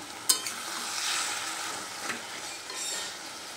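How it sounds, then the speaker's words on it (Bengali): Leafy greens (shak) cooking in a pan give a continuous soft sizzle with a few spatula scrapes and clinks, heard alone with no talking. "তো এই যে শাক রান্না করছি আমি।"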